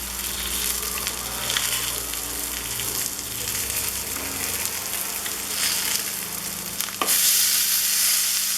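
Tilapia fish fries in hot oil with a steady, loud sizzle and crackle. A sharper surge of spitting comes near the end, as if the fish has just been turned.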